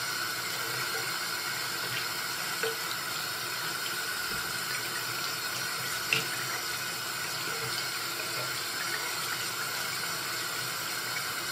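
Running tap water steadily rinses a makeup brush at a sink, a continuous hiss of flowing water with faint small splashes heard close.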